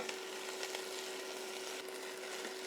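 Vegetables sautéing in a pot for Cajun 15 bean soup, a steady soft sizzle and crackle with a few faint stirring scrapes, close but quiet, with no talking.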